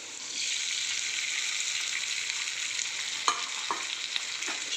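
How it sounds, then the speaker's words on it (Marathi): Sago being stirred into fried potatoes in a pan for sabudana khichdi, a continuous close sizzle with a few sharp spoon scrapes toward the end, no talking. "आपले बटाटे आता चांगले परतलेले आहेत। आपण आता ह्याच्यात साबुदाणा टाकून घेऊया।"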